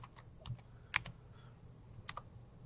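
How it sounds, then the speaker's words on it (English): Typing on a computer keyboard while entering a legal citation in a research database: a few sparse, crisp key clicks spaced irregularly over a low steady hum, fairly quiet and close, with no talking. "And again, I'm typing in its citation."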